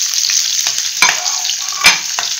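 Onions for paneer do pyaza fry in a pan with a steady sizzle, broken by several scraping and knocking stirs of the spatula, all close and fairly loud.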